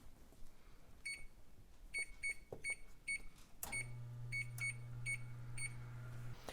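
Kitchen oven being switched on to preheat to 350 degrees, with a series of short, high electronic beeps at irregular intervals, then a steady low hum from the running oven under further beeps.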